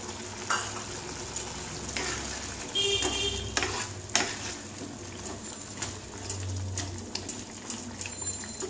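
Fish roe fritters added to a simmering potato curry for macher dimer borar dalna, a soft bubbling, sizzling pan with occasional stirring knocks and splashes, fairly quiet and steady.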